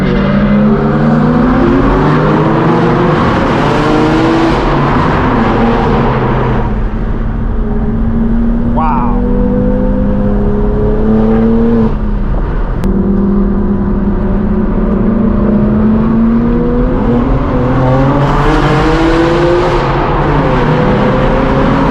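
Straight-piped BMW M4 G82 blasting its loud exhaust through a tunnel, engine note rising and falling through revs with a sustained, booming roar that echoes throughout.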